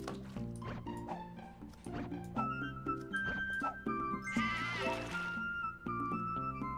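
Cartoonish sheep bleats from the mobile puzzle game Divide by Sheep, several short calls mixed into busy, bright game music with splashy watery effects throughout.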